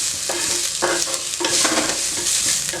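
Onion, cumin and curry leaves frying in a pan as the base for a Tamil fish curry, giving a steady close sizzle broken by several scraping stirs of a spoon.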